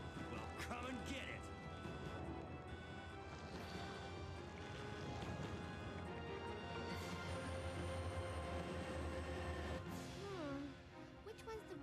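An underground train rumbles along in the Biohazard 2 video game, a constant low mechanical roar with rattling and metallic squeals, heard beneath in-game character dialogue.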